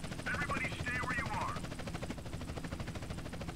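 Police helicopter hovering in the video game GTA San Andreas, a steady rapid rotor chop pulsing throughout at moderate level, with a brief warbling high synthetic tone in the first half.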